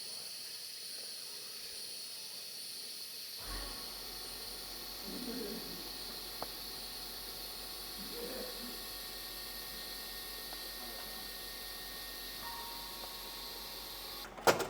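TIG welding around a Honda Grom exhaust, heard as a steady, moderately loud electric hiss and buzz that starts abruptly after a few quiet seconds and runs on continuously.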